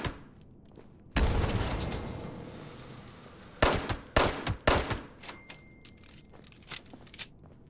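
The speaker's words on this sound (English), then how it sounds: "Let's just throw a grenade in here." A grenade exploding in the game Fallout 76, one loud blast that fades, followed by a scatter of sharp cracks and rattling debris, with no talking.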